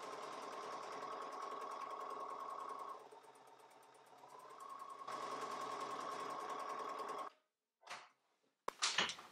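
A sewing machine stitching a bag made of cork fabric with a 3 mm stitch, running in a steady whirring hum that slows and dips midway, then resumes before stopping with a few clicks.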